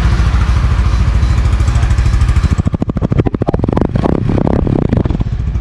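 A Honda Winner X Racing Edition motorcycle runs up close and loud with a steady exhaust drone from its muffler, then breaks into a choppy, pulsing idle with rising and falling revs.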